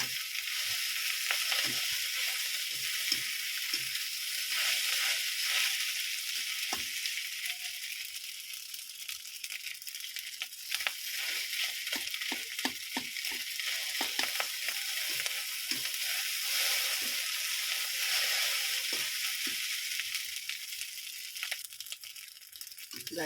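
Sausage fried rice (nasi goreng) stir-fried in a pan, a continuous bright sizzle with repeated scraping and clattering strokes of the spatula throughout, fairly close, steady and unbroken.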